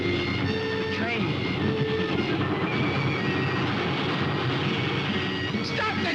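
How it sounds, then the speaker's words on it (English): Train rolling on rails in a 1945 film soundtrack, a steady loud rumble with clattering and whining tones, continuous throughout, with voices heard over it. "The train."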